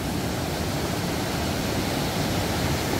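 Yongso waterfall in rocky Yumyeong valley, Gapyeong, pours into a deep pool with a steady, dense roar that stays loud and unbroken throughout, with no voices over it.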